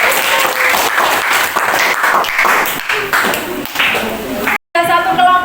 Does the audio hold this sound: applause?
yes